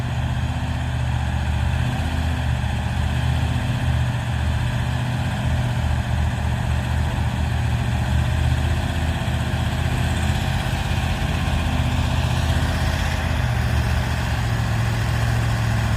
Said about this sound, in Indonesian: akhirnya itu truk Fuso ya yang dibawa ditarik dengan build up